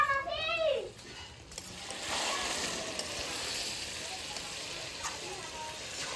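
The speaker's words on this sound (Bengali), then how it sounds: "মাংসটাই তেল ছেড়ে দিচ্ছি কষাতে কষাতে" Meat sautéing in oil in a home kitchen, sizzling and frying as a steady, moderately quiet hiss, with a brief voice at the start and faint stirring and household sounds behind.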